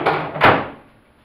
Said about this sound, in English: Here's the door,